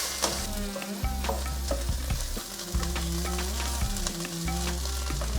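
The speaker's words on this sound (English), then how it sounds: "I'm going to add the chopped up ginger and garlic. I'm going to cook this for 2 minutes." Chopped ginger and garlic frying with softened onions in a pan for chicken curry, a loud continuous sizzle with frequent spatula scrapes and stirring clatter, close and without talk.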